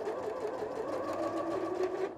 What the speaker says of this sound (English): sew right off the edge of our dart